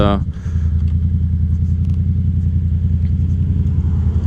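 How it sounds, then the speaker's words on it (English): A Yamaha FZ07 motorcycle's engine rumbles steadily at low pitch while riding, a loud, close, even drone that holds throughout without a clear rise in revs. "gonna give the bike a little juice after this"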